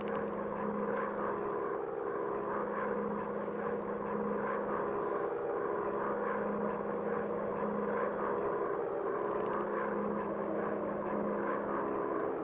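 Engines of World War One bomber aircraft droning in the Warplanes WW1 Fighters video game, a steady, moderately distant propeller hum with a constant low tone that holds unchanged throughout, with no voices.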